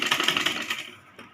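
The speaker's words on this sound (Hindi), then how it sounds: "फिर इस मशीन को हम उतार लेंगे। और इसके भी हम ऐसे ही सिलाई कर लेंगे।" Needle strikes from a sewing machine run as a fast, even mechanical clatter while stitching fabric for a Rajputi kanchali blouse, up close for nearly a second before cutting out, leaving a few faint ticks and quiet.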